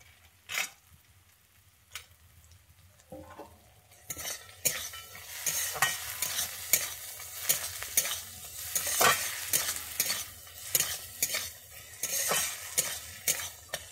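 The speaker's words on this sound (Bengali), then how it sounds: "এবারে আমি দিয়ে দিচ্ছি বাদাম আর কাজু বাদামটা" Peanuts and cashews frying in a pan while being stirred, with sizzling and repeated sharp scrapes and clinks of the utensil against the pan; quiet at first, then louder and busier after a few seconds.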